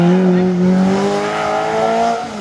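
A race car at a hill climb event in Hérenguerville-Quettreville, loud and close, its engine note holding a steady high whine that slowly climbs in pitch as it accelerates past, with a faint voice underneath.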